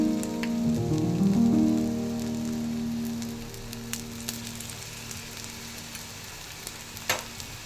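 Food fries in oil in a pan, cooked on both sides, with a steady hiss and scattered crackling pops. A low tonal hum is louder in the first few seconds, then fades, leaving the close sizzle and a sharp pop near the end.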